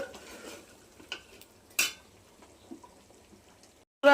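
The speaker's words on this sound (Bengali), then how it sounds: "দেখুন এই মাংসটা সুন্দর করে কষাচ্ছি" Chicken kosha being stirred and sautéed in a cooking pot, with scattered scrapes and clinks of a utensil against the pot, soft and close, and a louder clatter at the end.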